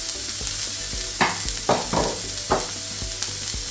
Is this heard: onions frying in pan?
yes